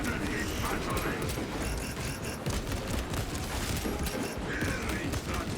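Shoulder cannon fire from a Space Marine in a Warhammer 40,000 Space Marine video game: dense, continuous mechanical booms and clattering bursts at steady volume, with battlefield din and voices mixed in.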